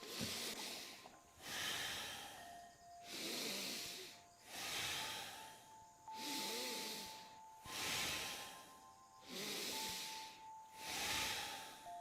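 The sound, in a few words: breathing, exhaling and inhaling during yoga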